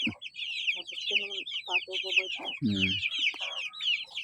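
Broiler chickens about 45 days old clucking in short bursts close by, over a dense layer of high chirping from other birds, with a brief louder squawk partway through.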